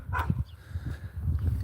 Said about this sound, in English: where's them little dogs, frightening us off here